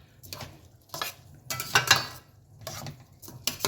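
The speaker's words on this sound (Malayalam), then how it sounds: "നമുക്കിതിനെ ഒന്ന് കുറച്ച് നേരം വഴറ്റി കൊടുക്കാം" Rice is sautéed and stirred in a pot for a sweet corn vegetable dish: close spoon scrapes and gentle sizzling come in several short, uneven strokes, with no talking.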